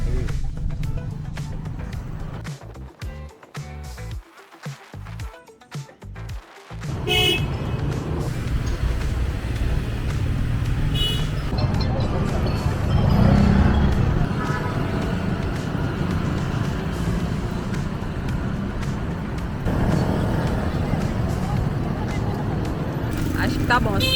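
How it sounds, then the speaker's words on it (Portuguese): Busy, chaotic street traffic in Hanoi, Vietnam, a steady roar of engines and vehicles that swells after a brief quieter stretch and holds close and loud, with scattered horn-like tones in the mix. "Vou mostrar pra vocês como é o trânsito louco aqui de Hanoi."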